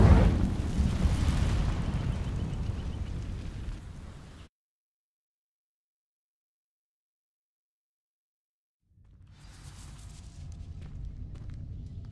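Incendio fire spell from Hogwarts Legacy igniting dry vines: a loud, roaring burst of flame lasts about four seconds, cuts to silence, then a softer crackling rumble returns.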